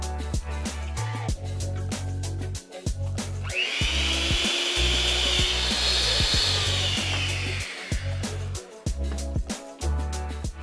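An electric hand mixer whirs steadily as it beats sugar and butter in a bowl into a creamy mixture, a continuous motorized drone with clattering knocks against the bowl throughout.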